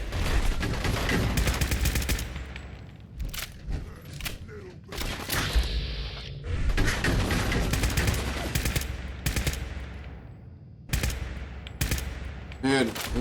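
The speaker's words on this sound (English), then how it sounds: "Hope you're enjoying my bad shooting. See if I can get some headshots." Gunfire from the video game Fallout 4 in survival mode, dense bursts of shots and rapid automatic fire running almost continuously, loud and close with brief gaps, under occasional talk.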